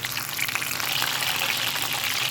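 Pieces of pointed gourd (potol) fry in hot oil, a steady, fairly quiet hiss and crackle with no gaps and no talk.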